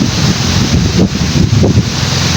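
Steady wind buffeting a microphone outdoors, a loud continuous rush with low gusty rumbles and no voices.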